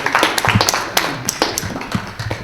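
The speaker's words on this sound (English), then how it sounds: "let's give all the people holding signs up a round of applause" Scattered, uneven clapping from a small audience at a political press conference, with sharp individual claps standing out over a thin murmur of room noise for a couple of seconds.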